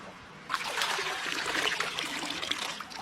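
A small stream trickles and splashes in an Alaskan rainforest, a close, continuous bright babble that swells sharply after a quiet half-second start.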